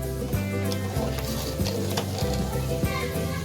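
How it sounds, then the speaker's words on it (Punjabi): Spices sizzling in hot oil for a tadka tempering, the finishing step of Punjabi-style kadhi; a steady close sizzle and crackle with repeated stirring noises in a regular rhythm and a low hum underneath. "ਹੁਣ ਅਸੀਂ ਲਗਾਉਂਦੇ ਆ ਜੀ ਤੜਕਾ"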